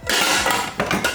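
A pan for baked beans is grabbed and handled in a kitchen, metal knocking and clattering against other cookware in a quick run of close, bright clanks.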